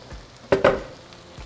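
Brief stirring and sizzling of salsa poured into a pan with fried onion for corn tamales, two quick loud scraping bursts over a quiet background.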